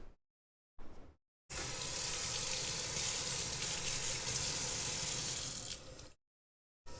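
Water running from a tap or poured into a hot pan of ground beef, a loud steady gushing hiss lasting several seconds after brief clatters, then stopping abruptly.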